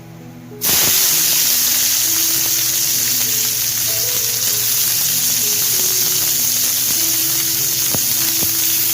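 Onions are sautéed in hot oil with cumin and curry leaves for mushroom tikka masala. A loud frying sizzle starts suddenly and holds steady, with occasional stirring clicks and faint tonal hum underneath.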